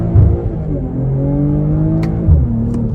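2023 BMW M440i pulling hard on the gas through low gears, its engine note climbing steadily in pitch, loud and close, with no one speaking.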